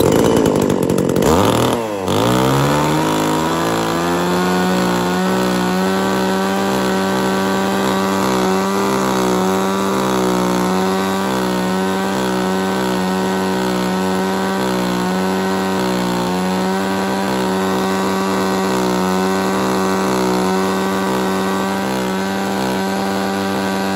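A used Japanese chainsaw engine starts with a brief rev, then runs at a steady loud buzzing idle, close by and continuous, with no talking.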